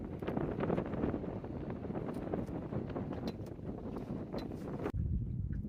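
Steady gusty wind buffets an open microphone on a boat out on a rough lake during an afternoon of crappie fishing, a continuous broad roar with brief dips.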